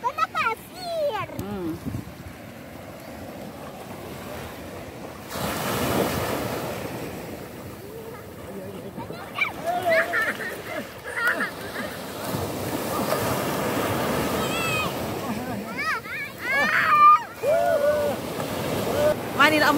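Ocean waves break and wash onto the beach at Pantai Parai Tenggiri in Sungai Liat, a rolling surf roar with wind noise, while people talk nearby.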